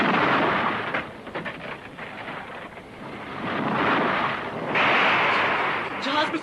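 A storm at sea roars as a sound effect in an Urdu cassette audio story of a ship's voyage, with thunder rumbling and waves surging in broad, swelling noise, and a voice narrating over it.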